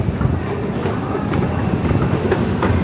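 A London Underground train running southbound, a steady broadband rumble with faint rhythmic clatter from the rails, continuous and close throughout with no pauses.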